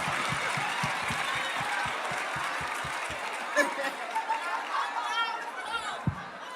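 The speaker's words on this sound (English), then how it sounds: "Clap it up, clap it up, clap it up." An audience claps in a steady rhythmic beat for about three seconds during a relationship talk show, then the clapping stops and scattered chuckles and chatter continue, with a voice speaking over the room.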